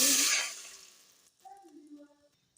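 About one and a half cups of water poured into a cooking pot while making sugar syrup for gulab jamun: a loud, splashy rush for just over a second that fades out, followed by quieter clinks and faint tones.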